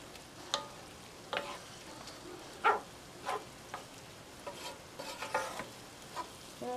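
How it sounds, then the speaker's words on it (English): Spiced Jamaican beef patty filling cooking on very low heat in a pan, giving a soft, quiet sizzle with occasional light stirring scrapes and pops, close and unaccompanied by voices. "So I'm just going to cook this on a very low heat and let this finish cooking"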